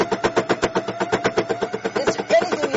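A sewing machine running at a fast, even rhythm, its needle stitching in rapid regular pulses close up, briefly with a faint voice near the end.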